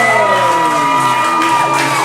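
A large arena crowd roars with sustained cheering, whoops and shouts for the wrestler Barbie Boy at a live wrestling show, loud and continuous throughout with no talk over it.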